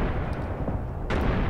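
Tank gunfire in Tank Warfare Tunisia 1943 sounds as heavy booming shots, one near blast at the start and a second sharp report partway through, over a rumbling battlefield background.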